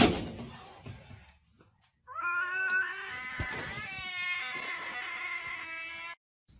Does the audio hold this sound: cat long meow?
yes